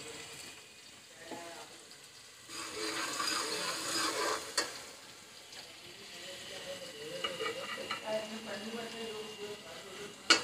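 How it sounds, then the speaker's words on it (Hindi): Curry leaves dropped into hot oil with onions, producing a steady sizzle and frying hiss that rises midway and continues with faint stirring scrapes, close and moderately quiet. "प्याज को थोड़ा ही चलाने के बाद अब मैं इसमें डाल दूंगी ये चंद कड़ी पत्ते।"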